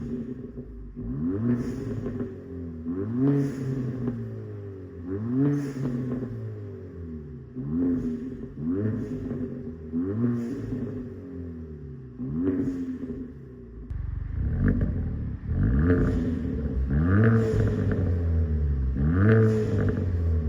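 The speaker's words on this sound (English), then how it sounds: "This is a full X-Force catback exhaust system, which sounds a little bit like this." A Kia Forte GT with a 1.6-liter turbocharged four-cylinder and a full X-Force catback exhaust with quad tips is revved repeatedly in quick blips, rising and falling about ten times, loud and close, with no talk.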